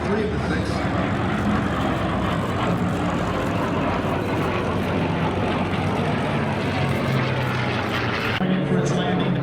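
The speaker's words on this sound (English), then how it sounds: "The Swift twin-engine P-38 Lightning around the world." A Lockheed P-38 Lightning twin-engine propeller fighter drones overhead at an airshow over Santa Maria, California, a loud, sustained engine roar that stays steady throughout with a slight shift near the end.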